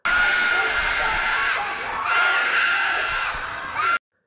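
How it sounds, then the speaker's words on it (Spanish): A loud, sustained high-pitched scream from a woman, rising in a few long waves before cutting off abruptly. "escupe sangre a su cara y da un grito"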